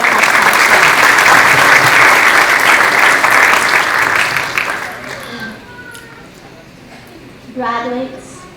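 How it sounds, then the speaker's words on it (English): Loud audience applause fills a graduation ceremony for several seconds, then fades out, leaving a quieter room with a voice starting to speak near the end. "Another round of applause."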